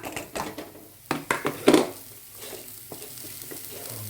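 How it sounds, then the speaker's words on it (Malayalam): Chopped raw papaya tipped into a hot frying pan and stirred for pickle, with a few sharp clattering scrapes and thumps early on, then a steady soft sizzle under light stirring. "ഇതിലേക്ക് നമ്മൾ അരിഞ്ഞു വെച്ചേക്കുന്ന ഓമയ്ക്ക അങ്ങോട്ട് ഇട്ട് കൊടുക്കാം"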